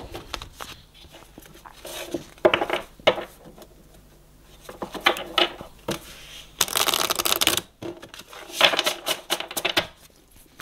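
Tarot cards are shuffled by hand in repeated short bursts of crisp riffling and flicking, close and fairly quiet, with brief pauses between rounds.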